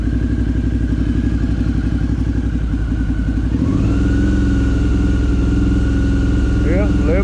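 A Suzuki V-Strom 650 motorcycle with a charging fault idles with a steady pulsing thrum, then the engine is revved up midway and holds a higher, smoother drone, loud and close.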